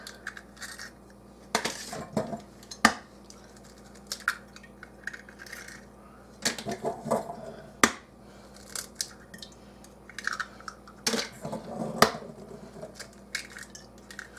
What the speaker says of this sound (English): So now I'm going to crack my eggs